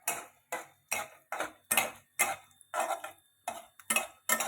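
A spoon stirs spinach and onion curry in a pan, giving about ten evenly spaced scraping clatters of metal against metal, close and fairly loud, with no talk.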